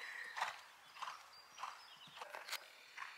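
Hooves of a cantering horse under saddle strike the ground in a steady three-beat rhythm, a few clear soft thuds at moderate distance with no talking.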